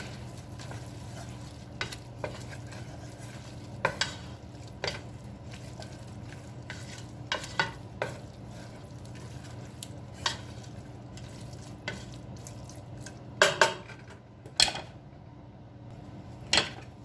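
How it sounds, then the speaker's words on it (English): Stuffed pepper filling with parmesan cheese being stirred in a pan, a steady low sizzle with soft scraping strokes and a few louder clanks of the utensil against the pan near the end. "Give it a good stirring."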